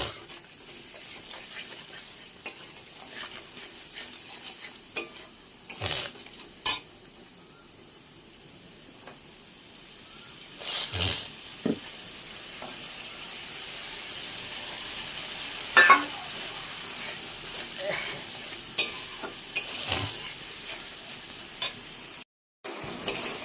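Mustard paste being stirred into rui fish frying in oil in a pan, with a steady sizzle under intermittent scraping stirs and a few sharp clinks of the utensil against the pan.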